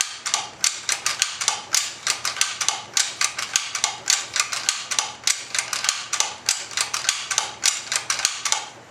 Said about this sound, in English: we're just going to work that bolt a little bit, get that lubrication